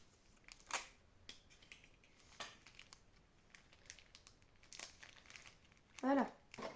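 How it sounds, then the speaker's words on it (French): Sharp crinkling and rustling bursts scattered through a quiet room, ending in a short squeaky strip of tape being pulled and pressed down. "Je vais mettre un coup de scotch parce que ça tient pas."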